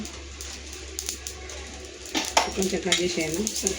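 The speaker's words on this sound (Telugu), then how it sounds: "సోంపును కూడా అలా లైట్గా వేయించాలి" Fennel seeds being lightly fried in a pan, with a soft sizzle and a spoon stirring and scraping against the metal, growing busier and louder in the second half.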